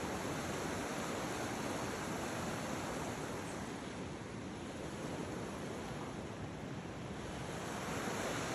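Stamp River rushes past at a provincial park campsite, a dense, constant roar of churning water that stays steady and fairly faint, with no other sounds standing out.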